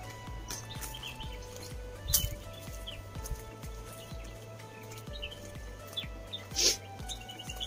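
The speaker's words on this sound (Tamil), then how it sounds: "நிறைய பறவைகளோட சத்தம் நல்லா கேட்கும்" Scattered bird chirps and calls sound through a steady outdoor background near Kundah waterfalls in the Nilgiris, with a few sharper calls standing out, no talking.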